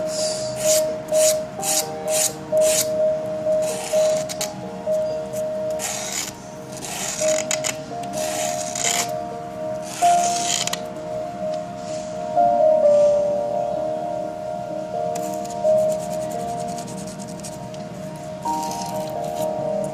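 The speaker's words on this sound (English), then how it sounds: "To remove the burrs at all sides." Burrs are rasped off the sides of an improvised fountain pen nib with repeated short filing and rubbing strokes, close and fairly loud, alongside a steady tonal hum.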